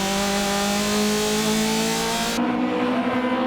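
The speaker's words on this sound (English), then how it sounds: "Wakisaka in the Spirit's Hachi-Roku clears the Dunlop corner, this time without any problems" Toyota AE86 Hachi-Roku race car in the 2004 N2 race at Tsukuba, clearing the Dunlop corner with a loud, sustained high-revving engine note close by, its pitch shifting as it passes and then drops away.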